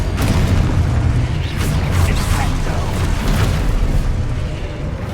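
Spell explosions in Hogwarts Legacy boom in heavy, rumbling blasts, one rolling into the next at a loud, close level, while a player shouts spell names over them.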